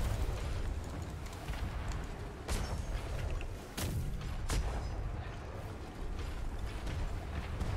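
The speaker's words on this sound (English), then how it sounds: "Bring us around for another broadside" Ship cannons fire broadsides in a naval battle in the video game Atlas: a few loud, sharp booms ring out in succession over a dense, rumbling wash of combat noise.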